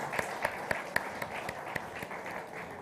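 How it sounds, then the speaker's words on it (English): Audience at a national microfinance congress applauding in a hall, a sparse, moderately loud run of distinct claps at a steady rhythm, with a few sharp individual claps standing out. "Let's have a big round of applause,"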